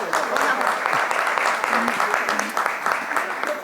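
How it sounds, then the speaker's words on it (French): An audience claps steadily for the team captain at a grand final event, dense continuous applause mixed with voices throughout. "Applaudissez pour notre capitaine"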